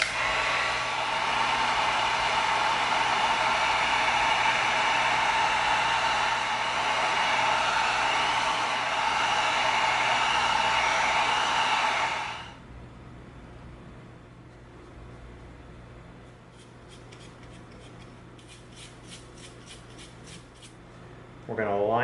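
A heat gun blowing hot air onto raw EVA foam, a loud steady roar for about twelve seconds that then cuts off, leaving quieter room sound with faint rustling.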